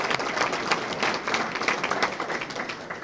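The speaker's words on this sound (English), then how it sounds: "We'll give them a round of applause." A crowd at a harvest breakfast gathering applauds Chamber of Commerce guests, a dense steady round of many hands clapping throughout, fairly close and loud.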